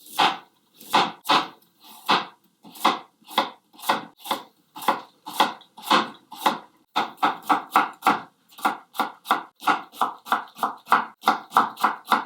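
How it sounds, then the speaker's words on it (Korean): A knife julienning carrots on a cutting board for cucumber kimchi, steady rapid chops in even bursts that quicken toward the end, close and crisp with no talking. "당근도 고명으로 채 썰겠습니다"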